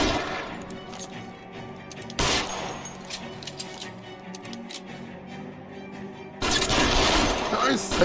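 Gunfire in the L.A. Noire video game, with two loud broadband bursts of shooting at the start and near the end and sustained noisy action between them, while a voice talks over it.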